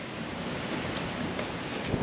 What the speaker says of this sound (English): I'll tell you, it's still windy.